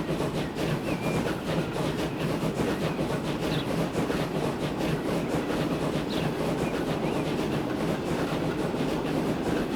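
A semi-fast Pullman train rolling on rails in the video game Transport Fever 2, a steady loud rumble with rhythmic clickety-clack of wheels over rail joints, continuous throughout.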